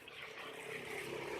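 Water pours steadily onto a homemade soil mix, giving a soft, continuous hissing splash at low volume with no voices.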